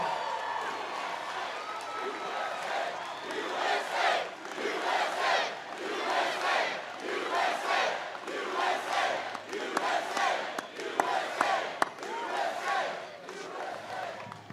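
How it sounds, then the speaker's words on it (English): Large crowd at a Trump MAGA campaign rally in Florida cheering and shouting continuously, loud and sustained in swelling waves, with a few sharp claps standing out. "Wow, what a crowd."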